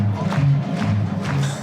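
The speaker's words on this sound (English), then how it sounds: "Now listen to the crowd get into this, and it is a near capacity crowd" A near-capacity crowd at a college baseball game between Vanderbilt and Auburn on a sunny day, a continuous distant roar of cheering and yelling rising and falling, with no clear speech over it.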